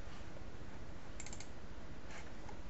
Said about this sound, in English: Here, I'll type that up for you.